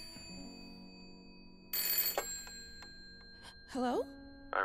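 An old house telephone in the Layers of Fear horror game rings in short electronic bursts over a quiet hum, loud and close, with a pause between rings.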